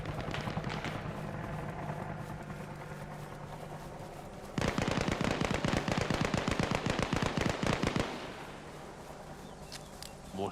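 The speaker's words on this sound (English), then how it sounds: "More shooting going towards this player on the left." Automatic gunfire in the video game Arma Reforger: steady background shooting, then a loud, rapid burst of machine-gun fire running for several seconds before dropping back to scattered distant shots.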